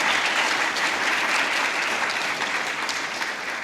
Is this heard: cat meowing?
no